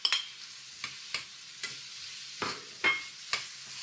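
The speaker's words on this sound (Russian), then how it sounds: "Овощи обжарились, добавляем сюда помидоры" Vegetables and tomatoes frying in a pan, gentle sizzle broken by about eight sharp, regular stirring scrapes, close and alone without voices.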